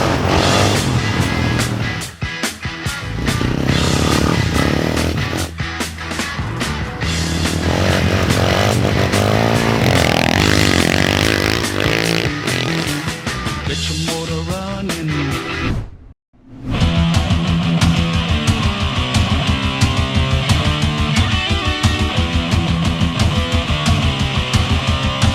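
A 1980 Honda XLS 125 motorcycle runs during a test ride, its small single-cylinder engine revving and droning loudly throughout, with a brief cutout midway before it resumes steadily.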